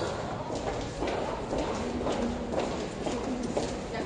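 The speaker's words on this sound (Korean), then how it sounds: "구두 소리." Dress shoes strike hard steps that echo inside a lighthouse, close and steady over constant reverberant background noise, with faint voices behind them.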